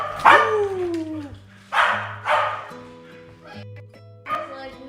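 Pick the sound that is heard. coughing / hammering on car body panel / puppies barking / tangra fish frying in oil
puppies barking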